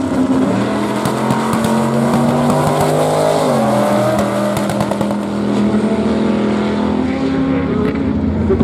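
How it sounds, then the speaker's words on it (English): Cars racing at Barona Drag Strip, an eighth-mile track on a reservation inland of San Diego, California: loud sustained engine roar with shifting pitch as a vehicle accelerates, close and continuous throughout. "This is Barona Drag Strip, which is a little 8 mile on an Indian reservation here inland of San Diego"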